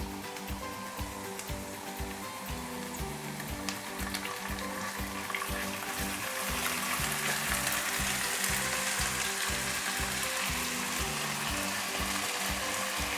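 Garlic and ginger paste fries with onions in a pan, making a steady dense sizzle that builds slightly louder over several seconds, close and continuous with a faint rhythmic low pulsing beneath and no speech.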